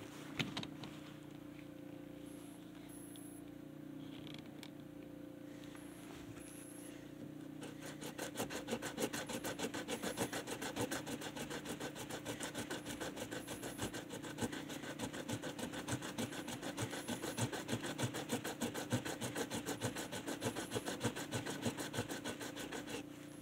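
Worn, low-grit abrasive rubbing across a wooden guitar body, a continuous rasping scrape that grows louder and denser after the first few seconds and keeps up a steady back-and-forth rhythm, close and alone.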